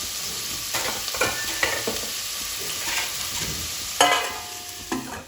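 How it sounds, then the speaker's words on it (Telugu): Onions frying for mutton curry, a steady close sizzle in the pan with occasional scraping stirs of a spoon rising above it, no voices. "ఉల్లిగడ్డలు కొంచెం బాగా గోల్డెన్ కలర్ వచ్చేంత వరకు మగ్గనిచ్చుకోండి."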